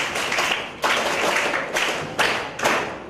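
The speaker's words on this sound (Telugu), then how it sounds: "ఒకసారి గట్టిగా అమ్మాయి క్లాప్స్." An audience claps loudly for a girl at a tower-building business game session, several bursts of dense applause rising and falling in waves, close and full, with no talk over it.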